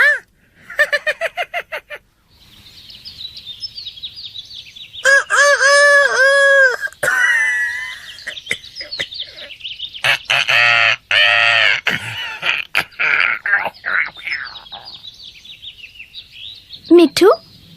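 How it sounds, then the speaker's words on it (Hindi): A cartoon parrot in an Urdu children's cartoon gives loud, squawking calls and chirps in several bursts, mixed with character voices and a few sharp effects. "ओह तोता, बहुत प्यारा है"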